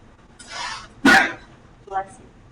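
A single sneeze bursts out indoors, preceded by a breathy intake and followed by a faint murmur, sharp and fairly close.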